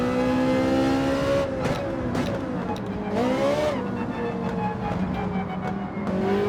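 Ferrari 458 Italia with a mid-engine layout racing at Interlagos in Gran Turismo 7, its engine revving high and shifting up and down through corners, steady and close with brief tire noise.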